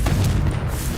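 A Confringo fire spell bursting in Hogwarts Legacy, a single loud, deep booming blast with a rumbling tail over about a second.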